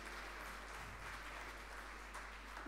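Warm applause from an audience at an Italian Immigrant Day event, a soft, even patter of many hands clapping, quiet and distant under a steady low hum.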